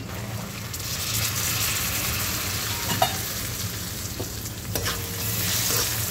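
Lentils sautéed and stirred with onions for a Vidarbha-style dal kanda, a steady sizzle with scraping stirs of a spoon, moderately close and continuous, with no talking.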